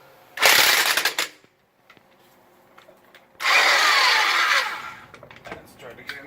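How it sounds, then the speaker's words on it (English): Cheap Harbor Freight impact gun loosening a 19 mm wheel lock nut during a flat tire repair: two loud, close bursts of whirring hammering, the first about a second long and the second longer, separated by a quiet gap. "really cheap impact gun"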